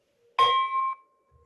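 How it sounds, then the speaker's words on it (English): A single Rotary Club bell is struck once to open a meeting, giving a clear, bright ring that sustains for about half a second before cutting off, alone with no talk. "I will now call the meeting to order by ringing the Rotary bell."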